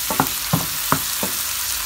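Chopped vegetables sizzle steadily in a hot pan alongside pork, a close, even hiss broken by a few soft stirring knocks.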